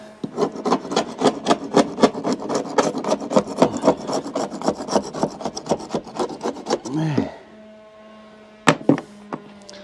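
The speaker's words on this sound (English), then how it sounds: "All right, quick scraping off around there." Scraper rasping off old silicone around the windows of a yacht, with fast, even, close strokes for about seven seconds, followed by a pause and a couple of sharp knocks.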